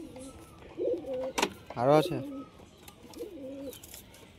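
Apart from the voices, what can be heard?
giribaz pigeons cooing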